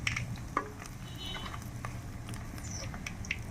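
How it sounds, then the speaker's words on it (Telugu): Dry red chillies frying in a pan along with fenugreek seeds, a quiet low sizzle with faint crackles and occasional light clinks of a utensil. "ఇవన్నీ దోరగా వేయించుకోవాలి"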